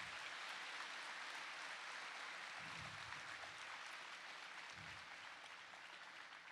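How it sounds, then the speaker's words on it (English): A school audience at a Veterans Day assembly applauds the veterans with a steady, sustained wash of clapping that sounds soft and somewhat distant. It continues without a break for the whole stretch, and no one speaks. "All right, one more round of applause for them"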